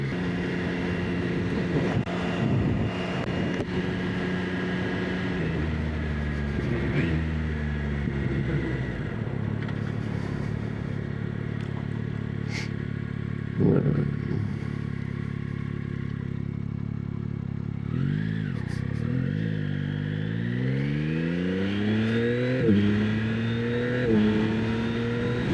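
A motorcycle ridden up to about 50 miles an hour on a cool morning road, its engine droning steadily close by and rising in pitch through the gears, with wind noise underneath and no talking.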